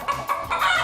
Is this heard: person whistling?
no